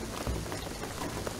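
Steady rain pours in Shadow of the Tomb Raider, a continuous dense patter and hiss that holds at an even level for the whole stretch with no voices over it.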